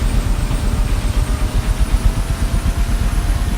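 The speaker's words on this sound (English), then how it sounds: "We're going to go ahead and slowly advance it to full throttle" A Huey helicopter's turbine engine roars loud and close as it advances toward full throttle, with a steady whine over a rapid low rotor thump.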